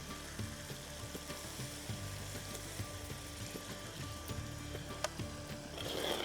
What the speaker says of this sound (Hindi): अब लहसुन की भुनाई करना बहुत अच्छी तरीके से